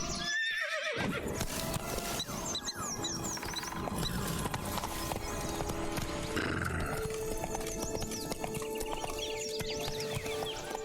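Roach, the horse in The Witcher 3 video game, gallops with a steady run of clip-clopping hooves and occasional neighs and whinnies, loud and continuous over layered in-game ambience and music.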